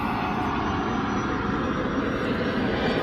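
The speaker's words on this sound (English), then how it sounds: "Hold on, there's a plane." A loud, steady roar of an airplane engine fills the air, a broad rumbling drone passing overhead without pause.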